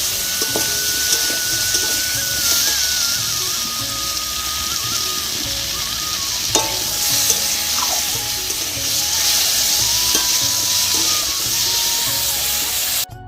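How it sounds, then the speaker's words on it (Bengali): Potatoes fry in a wok over a clay stove, making a constant, fairly loud hiss of hot oil with a few faint clinks. No speech is heard. "এবার আমি আলুটাও ভেজে নিলাম"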